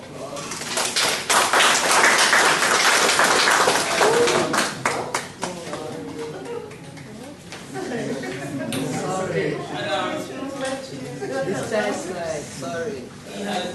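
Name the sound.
audience applause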